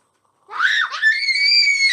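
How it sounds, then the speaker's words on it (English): A loud, high-pitched scream, close and sustained, rising with a brief dip and then holding a shrill tone for over a second. "Stop your screaming."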